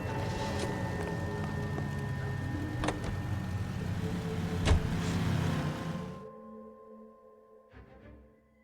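A car drives in the L.A. Noire video game, its engine a steady hum with occasional clicks and a brief swell. Partway through it cuts off abruptly, leaving a quieter tail with faint tones.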